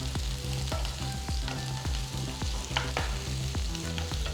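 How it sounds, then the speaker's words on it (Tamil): Onions with ginger and green chillies sizzle steadily in hot oil while a utensil stirs and scrapes the pan with repeated knocks, close and busy throughout. "வெங்காயத்தை நல்லா வதக்கணும்"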